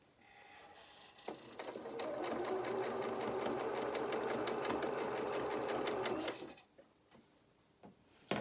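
A sewing machine stitches doll clothes in one steady, fast, whirring run of about five seconds, close and fairly quiet, starting and stopping with soft handling clicks.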